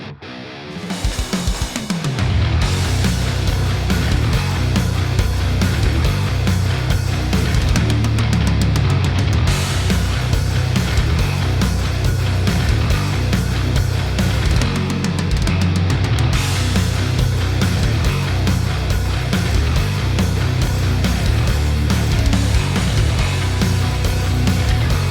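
Heavy metal playback of Bogren Digital Trivium drums with distorted guitars and bass, dense and loud throughout, drums forward in the mix, continuous after a brief quiet start.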